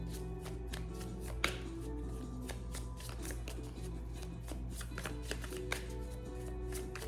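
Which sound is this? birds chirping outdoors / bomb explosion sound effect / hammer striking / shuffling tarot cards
shuffling tarot cards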